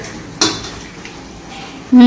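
Pots and metal vessels clank while being washed in a home kitchen during curry cooking, two sharp, close knocks separated by a quiet stretch.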